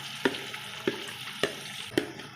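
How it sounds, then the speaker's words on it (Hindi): Marinated beef frying with onions in a pot for beef yakhni pulao: a steady close sizzle broken by four evenly spaced scraping stirs of a spoon against the pot. "अब मैं इसमें ऐड कर रही हूँ मैरिनेटेड हमारा जो गोश्त है वो।"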